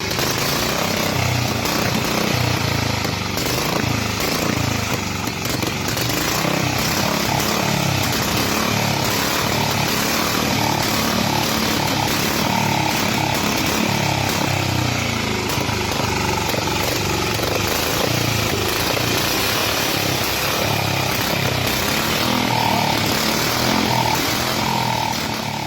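A classic motorcycle engine fed from an external fuel line runs steadily for the whole stretch, a loud, dense mechanical drone with a rapid buzzing rhythm and no letup.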